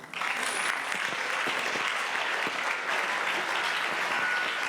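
A cinémathèque audience applauds speakers at an opening evening on Molière in theatre and film, dense steady clapping from a large crowd throughout, with no talk over it.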